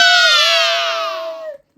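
A crowd-cheer sound effect, dense and loud, swells at once then slowly fades over under two seconds before cutting off.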